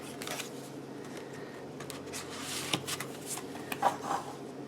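Paper pages of a handmade mini file folder album are flipped through, giving soft, quiet rustles and light papery ticks, with a few sharper flicks near the end.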